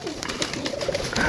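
Pigeons coo on an open rooftop loft, a soft continuous murmur of overlapping calls with faint rustling in the background.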